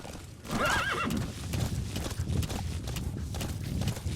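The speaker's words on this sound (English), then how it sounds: "How do I do that whole horse?" In a video game, a horse whinnies loudly near the start, then hooves clop steadily on and on at a brisk walking pace.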